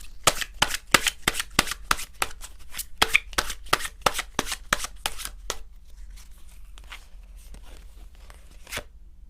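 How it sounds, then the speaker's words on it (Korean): Tarot cards being shuffled and drawn, a rapid run of crisp card snaps and riffles that thins out into scattered soft handling near the end, close and alone with no talking. "그러면 우리 이윤님께 마지막으로 힘을 좀 실어드릴 수 있는 마지막 조언 카드 역시나 뽑아봐야겠죠?"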